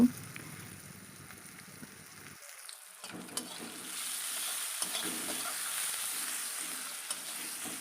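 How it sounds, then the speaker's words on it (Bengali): Taro leaves (kochu shak) stir-fried with salt in a pan give a steady sizzle and scraping stir, with a brief hush partway through before the frying hiss rises again and continues. "ভালো করে আমি নাড়াচাড়া করে নিয়ে রেখে দেবো"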